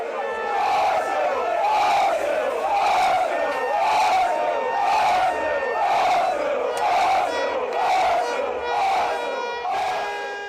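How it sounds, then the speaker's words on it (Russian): A large crowd of Arsenal fans chants rhythmically in the streets of London, repeated loud vocal swells rising and falling about once a second with whoops and shouts throughout. "Болельщики Арсенала выстроились вдоль улиц Лондона, скандируя лозунги и зажигая красные фаеры."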